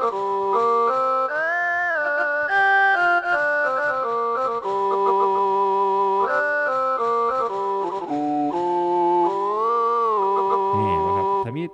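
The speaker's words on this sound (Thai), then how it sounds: "นี่นี่คือเสียงซอนะครับ นี่เป็นเสียงซอ" A Casio CTK-5200 keyboard plays a Thai saw fiddle voice: a bright, sustained, bowed-string lead melody with sliding pitch bends, loud and continuous over about twelve seconds.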